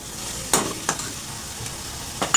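A vegetable sautés in a pan for an Onam meal, with a soft, constant sizzle broken by a few sharp scrapes of stirring.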